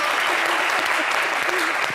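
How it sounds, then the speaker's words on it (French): A studio audience at a televised game show breaks into dense, steady applause, a continuous wash of clapping filling the room from start to finish. "Mais le public vous applaudissait avant que je dise c'est un bon point."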